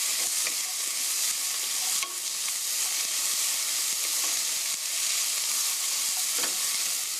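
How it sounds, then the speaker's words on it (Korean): Onion stir-fries in a hot pan for a Korean pork stew, giving a loud, dense, continuous sizzle with occasional scraping and stirring clicks. "여기에 양파가 살짝 투명하게 될 때까지 볶아주세요."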